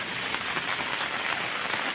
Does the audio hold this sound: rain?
yes